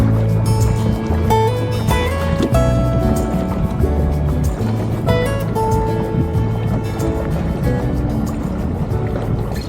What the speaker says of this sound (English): Being overtaken by a motor cruiser.